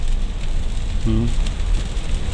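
Steady rain patters over a car driving on a toll road, a dense continuous hiss, with a brief low tonal sound partway through and no speech.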